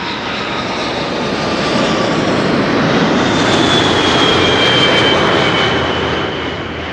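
A passenger jet with Rolls-Royce engines at Amsterdam Schiphol Airport roars loudly and steadily, the noise swelling and easing slightly while a high engine whistle rises and glides across the top.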